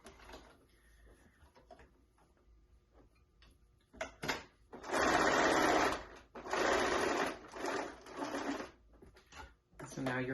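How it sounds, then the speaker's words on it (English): A sewing machine stitches fabric for a stuffed animal lovey in short loud bursts separated by pauses, with quieter clicks and handling noises in the softer opening. "we're going to make a stitching on the corner, right along the edge where it's been folded over"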